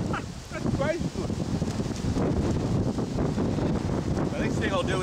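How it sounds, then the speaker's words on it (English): Heavy, continuous wind buffeting the microphone with a low roaring rumble, steady throughout, with a voice talking faintly in the background. "Bloody windy"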